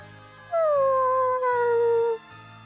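A dog howling in the video game Bravely Default: a single long, loud howl that slides downward in pitch, laid over a rhythmic, looping musical background, with no talking.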